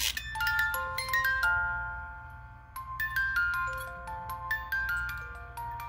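A secondhand toy bought at a garage sale plays a tinny electronic melody of Jingle Bells, with bright single-note tones stepping along over a low buzzing hum, close and fairly loud, with no talk.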